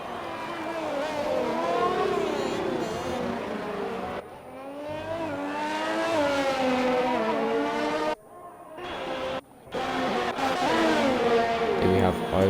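A Formula 1 car's 1.6 litre V6 turbo engine in a racing video game set at Hungary, a continuous high, whining drone that rises and falls through gear shifts with brief cuts, loud and steady, while a commentator talks.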